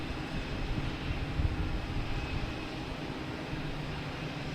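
A JetBlue Airbus A220 airliner arriving from Chicago on approach to Boston Logan gives a steady, distant low rumble of jet engines that holds level throughout, with no voices.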